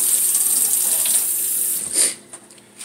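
Tap water rushes into a sour cream container being rinsed out, a loud steady splashing that cuts off after about two seconds, followed by a few faint drips and handling sounds.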